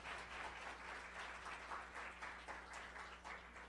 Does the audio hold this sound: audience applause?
yes